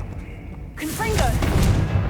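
A fiery Confringo spell blast bursts in Hogwarts Legacy, a loud rushing boom that swells and keeps roaring after a quieter lead-in.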